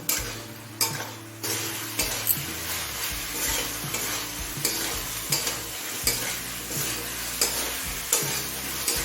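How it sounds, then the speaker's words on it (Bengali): Cabbage in a spice masala fried on high flame, a constant close sizzle broken by regular scraping strokes of a spoon against the pan, roughly one every second, with no voices. "জল দিয়ে সব মশলা মিশিয়ে নিলাম এবার হাই ফ্লেমে কিছুক্ষণ কষিয়ে নেব"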